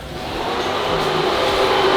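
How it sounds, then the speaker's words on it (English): An EG33 flat-six swapped into a Subaru WRX STI race car runs with a low mechanical rumble that swells gradually in loudness, a faint tonal drone sitting under the broad noise. "If I come in here, I turn the car on."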